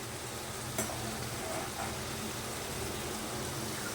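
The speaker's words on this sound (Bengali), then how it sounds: "একটু নেড়ে দিই, এই তো হয়ে গেছে" A cooking pan being stirred over steady background sizzle, with a couple of brief scraping strokes early on and no other sounds.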